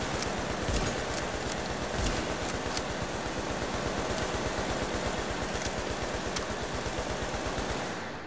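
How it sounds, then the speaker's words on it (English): Sustained automatic gunfire rattles in the Dark Zone of the video game The Division, a loud, rapid, evenly spaced burst of shots running for several seconds without pause before tailing off. "I'm hearing gunshots."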